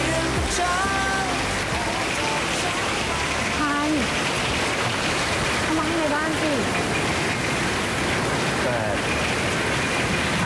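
Heavy rain falls in a steady, dense hiss during a Thai drama scene, with people talking over it throughout.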